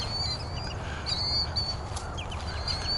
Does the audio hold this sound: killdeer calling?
yes